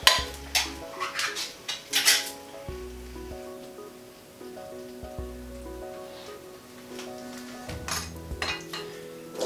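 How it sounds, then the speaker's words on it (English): Sweet potato chickpea curry with coconut is stirred in a pot, a utensil clinking and scraping against the metal in irregular bursts, close and fairly quiet, with no talking. "So again, give that a good stir."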